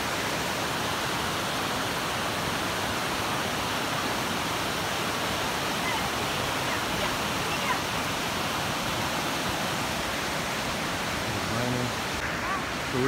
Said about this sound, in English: But this is the falls.